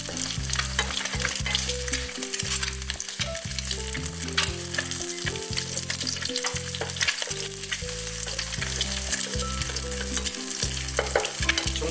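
An egg fries Chinese-restaurant style in plenty of hot oil, with loud, continuous crackling and sizzling close by over tonal background music, and no one speaks.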